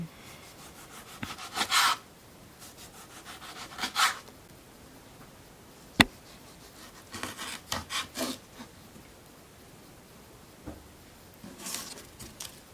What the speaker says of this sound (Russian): Режем помидоры. Так, помидоры тоже кольцами.